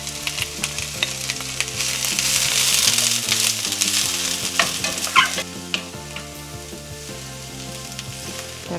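Shredded cabbage sizzles and fries loudly in a hot pan in a Sri Lankan kitchen, with bright spattering crackle, scraping stirring strokes and occasional clinks, over a steady low-pitched background of music; no talking.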